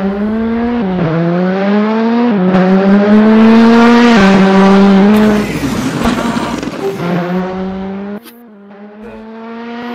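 A rally car at a Rallymix championship stage start revs hard and pulls away, its loud engine note rising and dropping through several gear changes before fading near the end.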